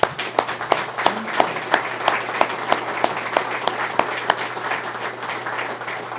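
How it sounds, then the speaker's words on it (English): An audience applauds the governor at an Alabama broadband funding announcement. The clapping is steady and sustained, with a few sharp individual claps standing out near the front, and it lasts the whole stretch without talk. "Let's give the governor a round of applause."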